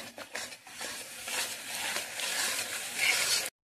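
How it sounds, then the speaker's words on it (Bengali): Spice paste with turmeric, cumin and chilli powder sautés in a pan, a bright, steady sizzle with stirring scrapes, swelling slightly before stopping abruptly, no speech. "এখন ভালো করে কষিয়ে নিতে হবে মশলাটাকে"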